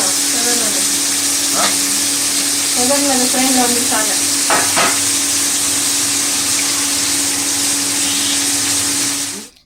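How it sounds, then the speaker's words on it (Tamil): Crushed tomatoes sautéing in a pan for a Tamil fish curry, giving a loud, continuous sizzle with brief scraping stirs partway through, then cutting off at the end. "கட் பண்ணி வச்சுருக்க தக்காளியை நான் இதில் சேர்த்துக்கிறேன்"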